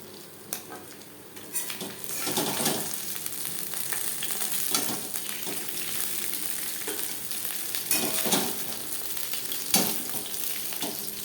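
Tangra fish frying in a pan, a steady sizzle of hot oil with occasional scrapes and clinks of a spatula against the pan, fairly soft and close with no talk.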